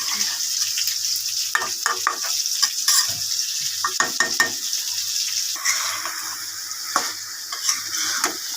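A spoon stirs rui fish curry with yardlong beans in a pan, giving a run of irregular scraping and clinking strokes over a constant soft sizzle, close and clear, with no voices.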